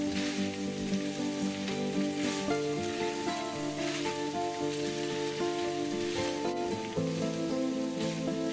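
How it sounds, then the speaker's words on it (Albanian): Bell pepper fries in a pan with meat and onion, producing a continuous soft sizzle, like light rain, under steady background music with sustained tones. "ta lejmë specin të skuqet për disa minuta bashkë me mishin dhe me qepën"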